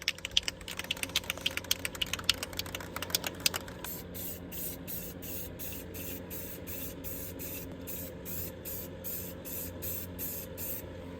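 An aerosol spray can hisses in a run of short, sharp bursts, then turns to a regular train of quick spurts. The sound is close and fairly quiet, with no talking.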